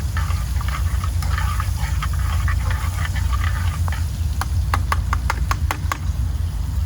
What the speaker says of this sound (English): add us a little bit of onions. And we just wanna saute that a little bit and kind of scrape that bottom a little bit